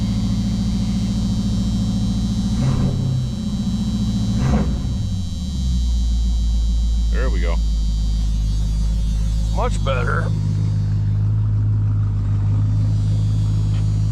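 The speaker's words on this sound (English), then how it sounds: "Trying to get that idle kick down though." A 1974 Ford Galaxie engine idles with a steady, deep rumble that runs the whole way through and settles into a smoother, lower drone partway in. Someone speaks briefly over it.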